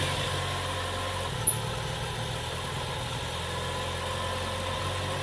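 A car engine idles steadily with a constant low hum and mid-range drone, a brief click marking the moment near the start; no starting crank is evident, and the running engine stays even throughout.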